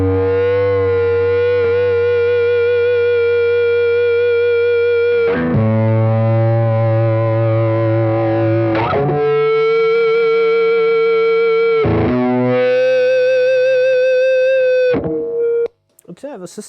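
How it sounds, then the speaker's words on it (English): Electric guitar through a One Control Baltic Blue Fuzz pedal gives thick, sustained fuzzy notes that ring long and change pitch in a few held sections, loud and alone until a brief cut at the end. "you have a very good organic old style fuzz that sounds really great"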